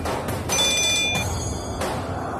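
A telephone rings in a Tamil TV serial scene, a loud electronic trill repeating in short bursts at close range, with no talking over it.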